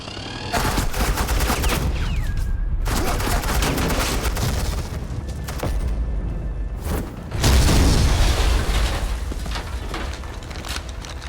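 Sustained gunfire in the video game Batman: The Enemy Within, with dense bursts of rapid shots and booming impacts running almost nonstop, then a brief lull and a heavier, louder volley near the end.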